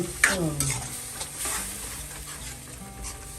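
Spices, including Kitchen King masala and degi mirch, sizzle in a hot tempering (tadka) for palak paneer. A spoon stirs them with a few soft scrapes and clinks, close by, with no talking.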